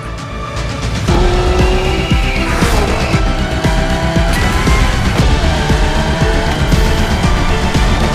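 A Genty Akylone hypercar in The Crew Motorfest racing game drives hard with a loud, continuous engine roar, while tires squeal and skid repeatedly throughout, close and sustained, with no talk.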